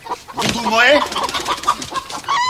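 Chickens cluck and squawk close by in a farmyard coop, several sharp calls rising and falling over about two seconds, with a person speaking briefly among them.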